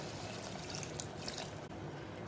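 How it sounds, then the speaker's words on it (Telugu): Half a cup of water goes into a simmering potato chicken curry with curry leaves and coconut powder, producing a soft, steady pouring wash with a faint bubbling hiss, quiet and continuous with no talk. "ఒక 1/2 కప్ వరకు వాటర్ వేసుకోవాలి"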